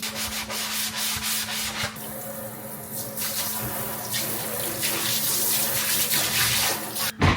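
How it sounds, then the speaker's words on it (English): Steady abrasive scrubbing of a kitchen sink with a cleaning pad, a continuous gritty rubbing texture with a faint watery undertone, close and fairly loud throughout, with no talking. "Now I'm just gonna go in and really scrub my sink down."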